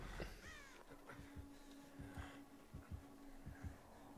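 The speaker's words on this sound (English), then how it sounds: "I think the crows are trying to give away our position." Crows caw in the video game Dead by Daylight, a series of short, faint caws repeating at a loose rhythm over quiet ambience, with no talk.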